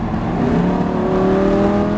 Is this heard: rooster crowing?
no